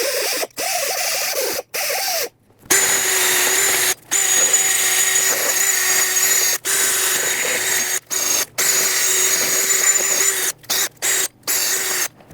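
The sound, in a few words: wire wheel on a drill cleaning brake hub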